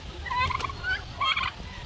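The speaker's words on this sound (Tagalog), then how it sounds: "So yan mga ka-farmers yung mga pabo natin" Turkeys on a small farm gobbling in two quick warbling bursts, fairly close and clear over a low background rumble, with no talking.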